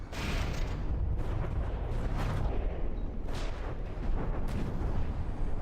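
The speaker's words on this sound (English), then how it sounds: "I like how the cram explosions exploding behind or close to a craft basically makes it fly up a little bit in the air" CRAM cannon shells exploding in the naval combat game From the Depths, a rumbling series of deep booms and blasts rolling one after another, dense and loud without any talk.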